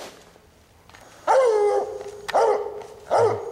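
A bluetick coonhound on a steep wooded hillside bays at a raccoon up a tree. There are three loud, drawn-out howling barks, each separated by a short pause, with faint rustling before the first.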